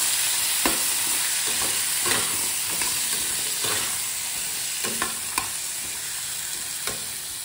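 Vegetables are stirred in a frying pan as they sizzle steadily, with repeated scraping knocks of the spoon against the pan at an irregular pace, close and clear.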